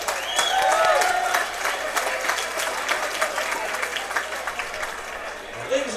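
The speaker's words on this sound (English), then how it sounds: "let's give both fighters a big round of applause" Crowd at a fight event applauding both fighters after three rounds, a dense, sustained round of clapping with some cheering that swells early and then settles, with faint voices mixed in.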